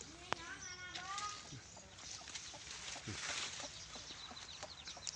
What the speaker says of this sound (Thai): เลี้ยงไก่ครับพี่น้อง